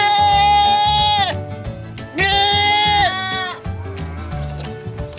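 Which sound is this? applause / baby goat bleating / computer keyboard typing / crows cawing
baby goat bleating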